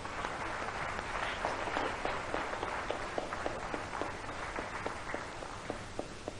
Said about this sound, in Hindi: तालियां बजा के स्वागत कीजिए।